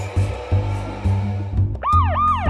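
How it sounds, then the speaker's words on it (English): A toy fire truck or police car siren wails in rising and falling electronic sweeps, loud and close, after a steady rhythmic mechanical hum with repeating beats. "We've got the siren,"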